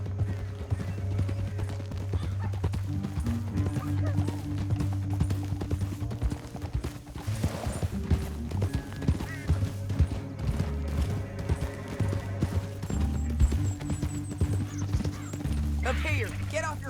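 Horses gallop through a canyon in Red Dead Redemption 2, a continuous rapid clip-clop of hooves with an occasional whinny, under game music and characters' spoken dialogue.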